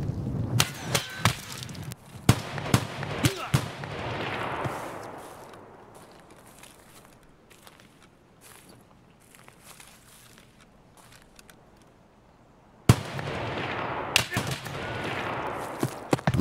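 Grenade blasts in Escape from Tarkov: loud broadband bursts crowd the opening two seconds, a sharp blast lands near 13 seconds, and more loud hits follow, with a long fading rumble between them.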